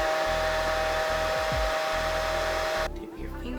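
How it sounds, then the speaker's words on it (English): A hair dryer blows steadily and loudly while edges are styled, a continuous whooshing whir that cuts off abruptly near the end, leaving a quieter room tone. "with each one you want to go in and blow dry it"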